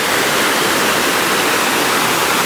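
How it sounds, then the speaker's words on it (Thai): Loud, steady roar of a waterfall swollen with rainy-season floodwater, a dense unbroken rush close by. "รวมกันมาเป็นสายน้ำแห่งนี้นะมาเป็นน้ำตก"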